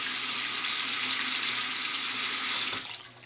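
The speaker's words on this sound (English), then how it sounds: "And now you got great water flow." Kitchen sink faucet running at full, strong flow after the aerator is screwed back on finger tight, a steady close hiss of water that stops abruptly near the end.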